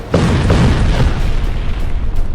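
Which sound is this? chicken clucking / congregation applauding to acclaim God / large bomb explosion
large bomb explosion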